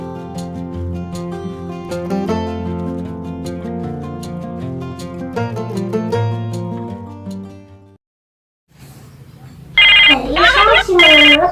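A phone ringtone sounds briefly near the end, a bright warbling tone that follows a stretch of melodic music and a short silence.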